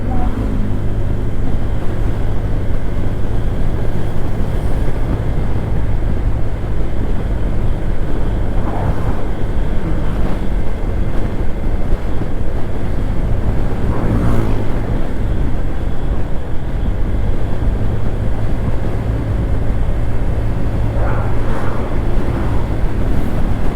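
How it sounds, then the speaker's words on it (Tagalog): Wind blowing hard across a microphone on a trip to Baguio, a loud continuous rumbling roar with gusty swells throughout and faint voices now and then. "Oh, Bakit hangin?"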